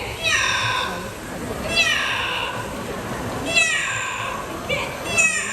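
A parrot at a bird park live show imitates a cat's meow several times, giving close, clear, drawn-out mews spaced a second or two apart over a lively, noisy crowd backdrop.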